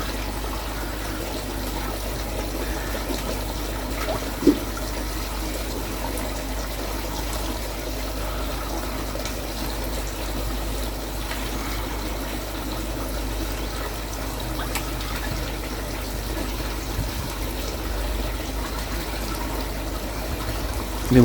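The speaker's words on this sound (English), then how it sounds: "The water's still topping up." Water runs steadily into a garden fish pond being topped up during a winter clean, a continuous soft trickling wash with a low hum beneath it, unbroken for about twenty seconds and without speech.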